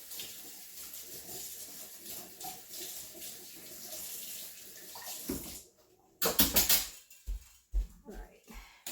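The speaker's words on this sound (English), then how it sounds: "I'm going to rinse that off really fast" Tap water runs steadily into a sink while a person talks over it in a kitchen-like setting, then stops, followed by a few louder clinks and splashes close by.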